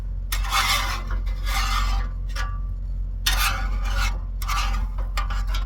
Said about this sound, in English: Scrape all that off first.